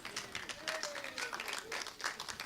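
Audience at a Los Angeles astronomical society general meeting clapping, a scattered mix of hand claps sustained for a couple of seconds, with voices murmuring underneath.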